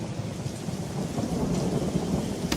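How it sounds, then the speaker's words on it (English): Steady rain patters and thunder rumbles in an animated Percy the Park Keeper storm scene, a continuous, fairly soft wash of rainfall with low rolling thunder underneath. "Oh, it's raining."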